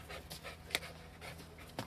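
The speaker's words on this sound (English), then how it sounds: "You wish your dog was as well trained as Dex" A dog pants rhythmically in quick soft breaths close by, with a sharper click or two, fairly quiet in an indoor room and no talking.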